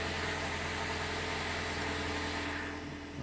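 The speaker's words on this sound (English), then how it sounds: "I'm going to turn it on and start it." A 2014 Lincoln MKZ AWD idles just after being started, giving a steady, low, even engine hum with a faint vibration and no other sounds.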